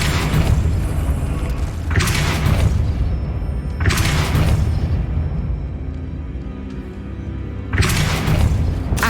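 Spell effects in the video game Hogwarts Legacy, with several heavy booming blasts over a low, rumbling game backdrop, recurring every couple of seconds.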